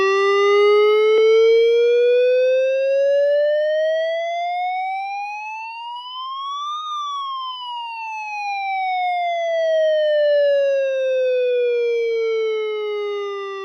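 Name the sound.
Midland WR10 weather radio alert test tone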